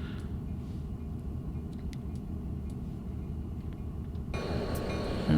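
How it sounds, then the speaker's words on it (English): In Train Simulator, a steady, low mechanical rumble of an Aerotrain engine drones on, growing a bit louder and brighter near the end. "A nice little train, except for the engine sounds."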